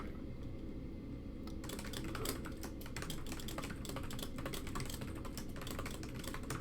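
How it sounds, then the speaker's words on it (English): Steady typing on a computer keyboard, a rapid irregular run of close, crisp key clicks that starts after a quiet moment and continues alone throughout. "I can hear Hello? typing."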